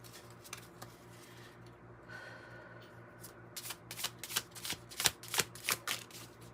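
Tarot and animal spirit cards being shuffled by hand, a soft rubbing whir early on that builds into a run of crisp, rapid riffles and slaps toward the end, close and clear over a faint steady background hum.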